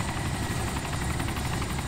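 Little Bird helicopter in Arma 2 DayZ passing close by, a steady loud rotor thrum and engine whine filling the whole stretch without letup.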